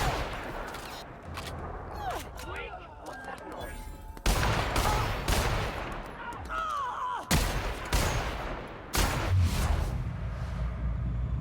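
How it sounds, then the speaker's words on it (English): Gunfire in The Outer Worlds strikes at the player in sharp, repeated bursts that hit loud and near, coming in clusters between stretches of combat noise and a voice talking. "God, who is shooting me like that?"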